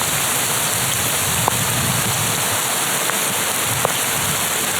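Hail falls onto a roof in a loud, steady wash of hits, with a few sharper single impacts standing out and no talk.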